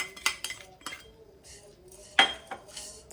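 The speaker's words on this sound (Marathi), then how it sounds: "मी आता हे सगळं मी मिक्स करून घेणार आहे" Poha, roasted peanuts and other ingredients are mixed in a dish for Maharashtrian dadpe pohe, giving a few light clinks and scrapes of a spoon against the dish, close and quiet.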